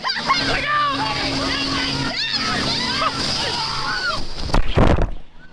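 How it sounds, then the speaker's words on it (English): Waves crash and splash in a large wave pool, a loud, continuous wash of churning water with shouting and excited voices mixed in, ending in a heavier surge. "This wave pool looks absolutely insane, with waves crashing so hard it feels more like the ocean than a swimming pool."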